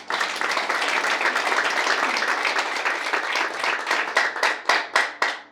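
An audience at an office coffee gathering applauding a team leader, dense steady clapping that thins into a few separate loud claps near the end, close and lively.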